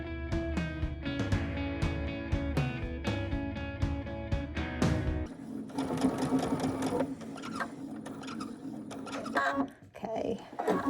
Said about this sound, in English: we're going to just do a top stitch all the way down